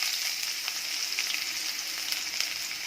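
Onions fry in hot sesame oil with mustard seeds, a steady close sizzle with light crackling pops throughout, no voices.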